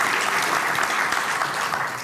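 A conference audience bursts into continuous applause, a dense, steady clatter of many hands lasting a couple of seconds and fading slightly at the end.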